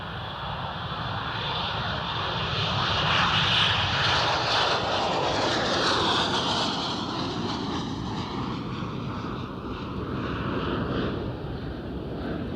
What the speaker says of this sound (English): You're clear for takeoff on runway 4, Jimmy.